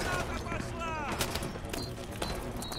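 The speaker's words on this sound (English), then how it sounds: "There's people shooting right above us." Video game gunfire in Modern Warfare 2 Remastered, with people shooting from above: continuous loud bursts and scattered shots, mixed with a brief voice and a whistling tone partway through.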